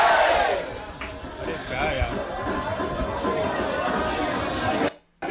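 A large crowd celebrates India's win in the 2026 Under-19 World Cup final against England, with loud, continuous roaring cheers and shouting chatter before an abrupt cut.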